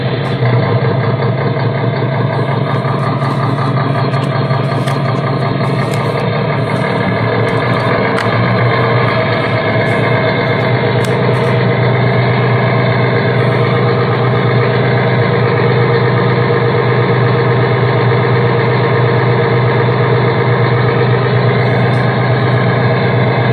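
A car engine idles steadily in a driveway, a constant close, loud hum that holds unchanged the whole time.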